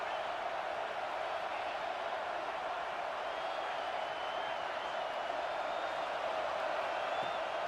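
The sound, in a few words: stadium crowd noise on 4th down, from a college football video game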